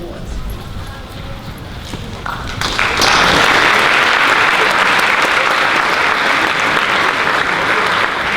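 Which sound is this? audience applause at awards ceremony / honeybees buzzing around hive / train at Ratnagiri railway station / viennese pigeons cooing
audience applause at awards ceremony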